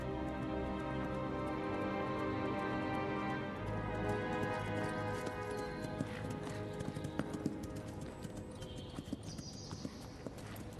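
Steady clip-clop of horse hooves on a hard surface, moderately close, continuing throughout at an even walking rhythm.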